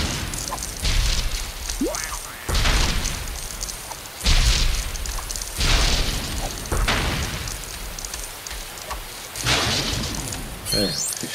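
Several loud booming cannon blasts in the video game Lego Batman go off at irregular intervals, each with a heavy rumbling tail.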